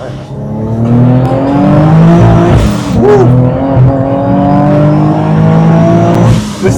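A supercharged Nissan 350Z HR making over 500 wheel horsepower accelerates hard, its loud engine note rising through the revs with a brief gear change midway and a faint tire chirp, heard from inside the car.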